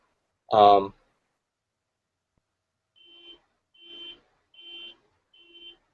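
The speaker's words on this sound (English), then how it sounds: "That's just the PBF alarm going off" An alarm beeps four times in an even, spaced rhythm, moderately loud and close, after a short burst of voice at the start.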